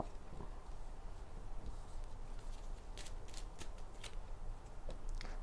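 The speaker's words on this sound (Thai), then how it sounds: "เดี๋ยวจะมาเปิดไพ่ให้" Tarot cards being shuffled and laid out, a steady soft papery riffle with a cluster of sharp flicks and slaps near the end as cards hit the table, close by with no talk.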